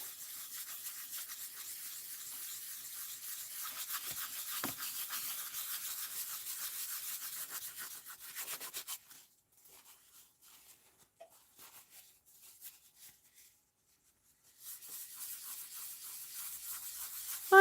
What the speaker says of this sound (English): So I'm getting rid of that excess blue that's sitting on top of the shells.